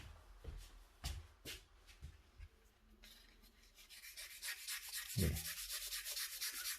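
Pencil graphite rubbed back and forth on fine sandpaper, with close scratchy sanding strokes that grow steady and rhythmic in the second half after a few scattered scrapes; a brief spoken word is heard.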